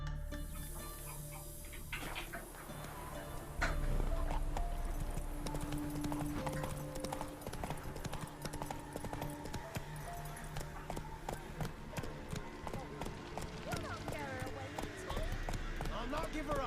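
Hooves of Roach, the horse in The Witcher 3, pound in a quick, steady galloping clip-clop that carries through the whole stretch, with voices and other game sounds mixed in.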